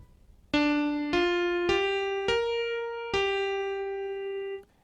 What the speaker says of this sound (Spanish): Entonces el piano solo suena de esta manera.